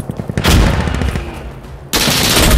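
Gunfire from the video game Insurgency Sandstorm: two loud sustained bursts of rapid automatic fire, close and harsh, separated by a short lull of quieter scattered shots.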